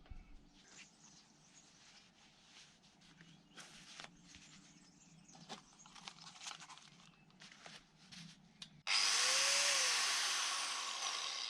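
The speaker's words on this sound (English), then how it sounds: "I'm going to have to grind out some of this stone in order to fit the blocks" Power tool grinding out stone for a DIY pool wall starts suddenly after scattered handling clatter, a loud, harsh, continuous abrasive whine and rasp that briefly dips in pitch, close by.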